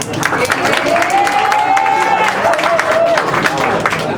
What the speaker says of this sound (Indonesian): Tepuk tangan dulu untuk Oma Munir.